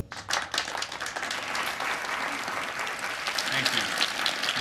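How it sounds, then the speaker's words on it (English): Applause from a theatre audience at a live mind-tricks stage show, a dense, steady roar of many clapping hands that holds throughout, with a few voices mixed into the crowd. "Polite applause is one thing"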